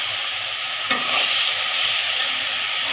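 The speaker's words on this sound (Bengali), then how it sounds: "ওইটার সাথে আমি আলু দিয়ে এটাকে ভাজি করতেছি" Radish greens and potato fry steadily in a pan, a constant close sizzling hiss with a brief utensil stir scraping through it early on, no voices.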